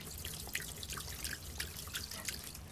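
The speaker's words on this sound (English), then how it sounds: "Let me wash a fan brush here." Fan brush being washed in water, heard as soft dripping and swishing splashes with little liquid trickles, close and moderately quiet over a steady low background.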